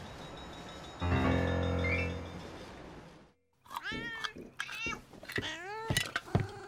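Cats meow indoors: a steady, droning tone first, then a quick run of rising and falling meows, some overlapping, fairly close and clear.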